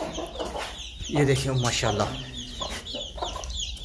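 Chickens and a rooster cluck in a small room shared with chicks, close and lively with short bursts and a rising call, while someone talks over them.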